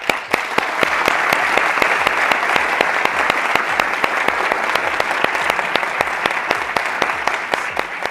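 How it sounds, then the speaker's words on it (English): Audience applause welcoming a speaker on stage at a corporate product launch event, steady dense clapping with sharp individual claps throughout, sustained and loud from start to finish. "Please welcome Mr. Michael Hughes with a warm round of applause."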